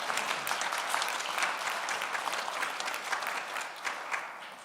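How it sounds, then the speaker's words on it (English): Church congregation giving a big round of applause in the sanctuary, dense and sustained clapping from many people, loud and even throughout, with no voices over it. "So everybody give Lawrence a big round of applause."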